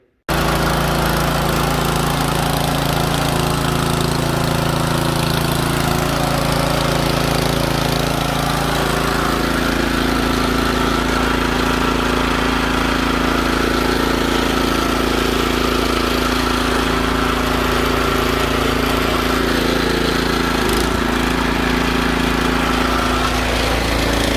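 A snowblower's small engine runs with the auger engaged, a loud, steady, continuous droning roar heard up close, with no pause throughout.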